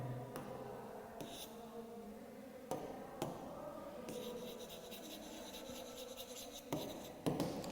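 Pen writing on paper during a math lesson, scratchy strokes with a few sharp taps, steady and close over a faint background.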